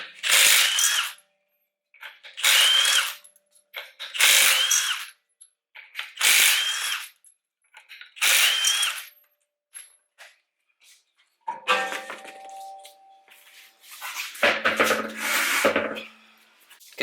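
A power tool removes the wheel from a 2012 Toyota Camry, firing five loud, close, rhythmic bursts of roughly a second each, followed by a few seconds of clattering mechanical ratcheting with a whining tone.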